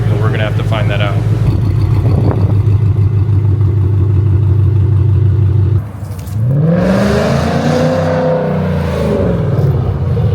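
A 2024 Ford Mustang GT S650 fitted with an AWE SwitchPath exhaust: a deep, steady idle rumble, then a brief dip and a rising, sweeping rev, loud and close, with a voice talking over it.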